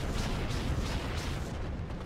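Continuous heavy artillery booms and rumbling gunfire from the video game Planetside 2 blend into a dense, low roar, steady throughout with no voices.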